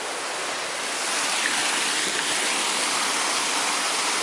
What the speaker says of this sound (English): Waterfall number 7.